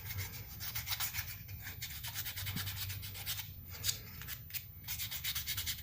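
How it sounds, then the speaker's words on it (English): Steady hand sanding of a frog model, a continuous rasping scrape with rhythmic strokes and a few sharper passes, close up and moderately loud. "All right, back to sanding."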